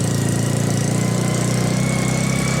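A running engine idles loud and close with a rapid, pulsing, uneven throb that suggests sputtering, heard alone with no talk.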